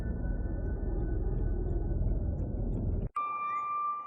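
A single bell strikes once, a bright clear ring cutting sharply through a loud, steady low rumble and then sustaining as a long ringing tone.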